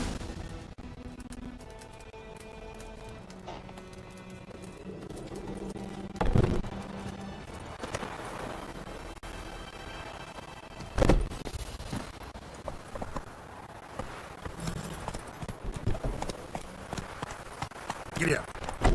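Horse hooves clip-clop and gallop across ground in The Witcher 3, a rhythmic run of fairly faint hoofbeats building over the stretch, with game music, occasional thuds, and someone speaking early on.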